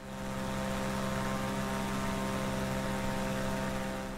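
Single-engine propeller of a Cirrus SR22 at takeoff power in Microsoft Flight Simulator, a steady, loud, continuous drone with strong harmonic hum throughout, alone without talk.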